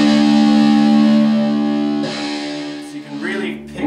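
Electric guitar driven through a Danelectro Fab Metal D-3 distortion pedal: a loud, saturated sustained chord rings for about two seconds, then thins and decays into a rougher, fading tail.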